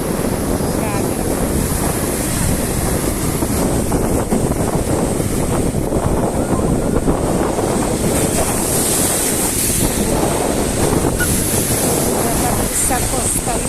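Waves roll up the beach at Gagra in the evening, reaching right up to where someone stands, a continuous loud wash of surf and gusting wind across the microphone with no pauses.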